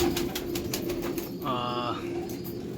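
Pulsar chotiyal pigeons coo in a steady low hum, with a brighter rippling call in the middle, close by and fairly loud over a constant background tone.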